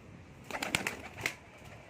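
Pigeons kept for homing training coo softly in a few short, close calls over a faint outdoor background, with no talk.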